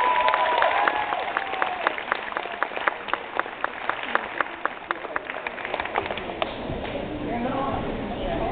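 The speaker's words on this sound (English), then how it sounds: "So another round of applause for these gentlemen." Clapping from an audience at a cross country pep rally in a theatre, quick scattered claps under loud cheering and talk, thinning out toward the end.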